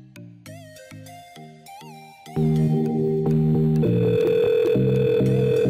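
A short run of rapid electronic tones, like a number being dialed on a SIP PBX phone system, then a sustained louder tone pattern of hold music while the line is busy.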